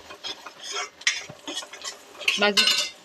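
Ginger garlic paste, turmeric and Malvani masala stirred in a pan on low heat for a ridge gourd bhaji, with irregular scrapes and metallic clinks of a spoon against the pan over a faint sizzle, close up and without speech.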